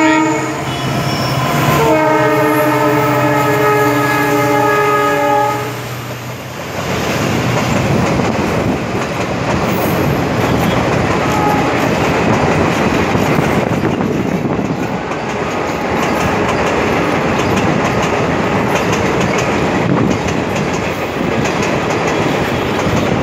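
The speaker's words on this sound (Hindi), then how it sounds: "ट्रेन की आवाज़ थी पीछे से।" A train passes near Bhimgoda Kund in Haridwar. A loud horn sounds at the start and gives way to a sustained roar of wheels and cars rolling by close, continuing to the end.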